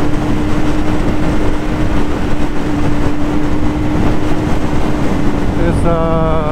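A Kawasaki motorcycle lane-splitting in traffic gives a loud, steady drone of engine and wind roar with a constant hum, and a voice is heard briefly near the end.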